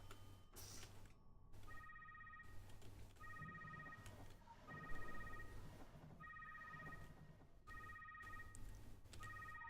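A telephone rings in repeated electronic bursts, each short trilling ring followed by a pause, at a moderate level over a low background hum, with no talking.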